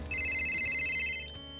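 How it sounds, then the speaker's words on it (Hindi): A mobile phone rings with an incoming call in a Hindi horror story narration, a bright steady electronic ringtone sounding continuously and close for just over a second before cutting off. "और एक दिन कनिका के फोन पर एक कॉल आता है।"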